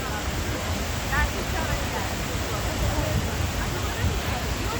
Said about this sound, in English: So this is a man-made, whatever, waterfall.